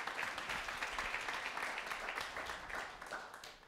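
Audience applause at a startup launch event for young entrepreneurs, a fairly faint, steady wash of clapping from a crowd that thins slightly toward the end.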